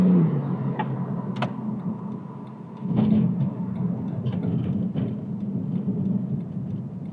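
A 2011 Porsche 911 Turbo S engine running while driving, a steady low rumble from inside the car with a slight swell partway through and a few faint clicks, no voices.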